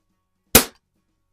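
A single sharp shot from a repaired mid-1950s Crosman 140/147 air rifle fired at paintball targets: one loud, close crack with a short decay, surrounded by silence.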